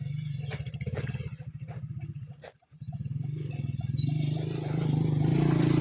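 A motorcycle carrying three or four riders rumbles along a rough road, its engine chugging in a steady rapid pulse, dipping briefly before revving back up loudly.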